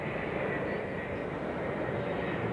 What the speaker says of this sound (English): a jet just flying over, so a little bit on the noisy side